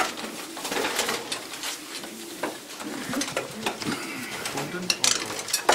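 A pigeon bought from a breeder coos softly inside a loft, its low murmurs mixed with scattered rustles and knocks, while people talk close by.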